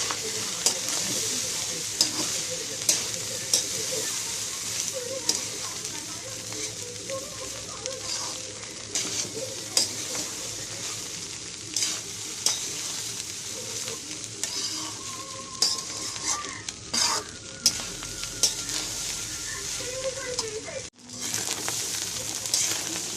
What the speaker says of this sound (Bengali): ভাতটা ভালো করে ভাজিতে হয়ে গেছে ভাজা